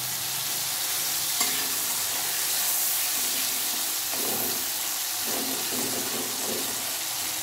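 Food, with tomato melting in, stirred in a pan over a lowered gas flame, a constant dense sizzle with soft scraping strokes now and then, no one speaking.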